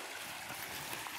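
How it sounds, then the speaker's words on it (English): Water trickles into a sinkhole along a ridge in Pennsylvania in April, a steady, soft broadband flow with no voices, fairly faint and continuous throughout. "here's where the other water sinks."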